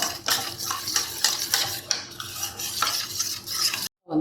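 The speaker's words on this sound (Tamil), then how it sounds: "இதில் பால் நம்ம எடுத்து வச்சுருக்கிற 1/4 டம்ளர் தேங்காய் பாலை ஊற்றி கரைச்சி வச்சுக்கோங்க. கட்டி இல்லாமல் கரைச்சிக்கணும்." Coconut milk stirred into a mixture in a pan for a coconut pudding sweet, a spoon scraping and clinking against the metal in quick, continuous close strokes, with a faint wet swish underneath.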